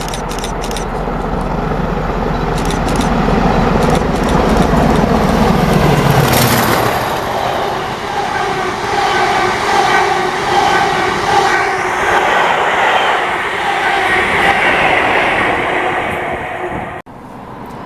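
Class 40 and Class 47 diesel locomotives top-and-tailing a charter train from Crewe to Inverness in Scotland roll past loudly and steadily, with a deep engine rumble, rail noise and wheel clatter building and then easing as the train passes close by.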